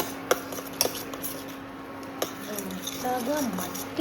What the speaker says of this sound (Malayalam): നമുക്കിനി സ്പൂൺ കൊണ്ട് ജസ്റ്റ് ഒന്ന് മിക്സ് ചെയ്യാം ഗൈസ്